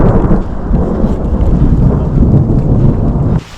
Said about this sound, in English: The rain is coming down out here after several minutes of thunder and lightning.